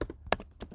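A few soft keystrokes on a computer keyboard while entering a terminal command, irregular taps close by and quiet, with no speech.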